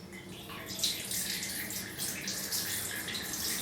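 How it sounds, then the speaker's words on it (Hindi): Cold water pours steadily from a tap or vessel directly onto a bare knee, a continuous close splashing rush with slight surges, no talking. "और ठंडा पानी हमें बिना तौलिए के ही डालना है।"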